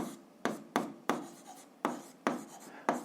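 A pen writes a physics equation by hand on paper, with seven distinct scratchy strokes in an irregular rhythm, quiet and close, with no talk.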